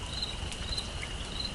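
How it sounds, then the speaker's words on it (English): Crickets chirp steadily at night in a soft, continuous high trill over a faint hiss of breeze, with no voices. "Crickets, the distant frogs, and the sound of the breeze moving through the trees."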